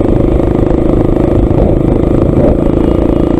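Bajaj Pulsar 200 NS motorcycle with a loud aftermarket exhaust, a constant dense engine drone and rumble at close range with no pauses.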